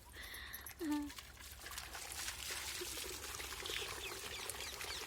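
Water pours and trickles steadily in a continuous splashing flow, with a brief chirp-like sound early on and faint background noise.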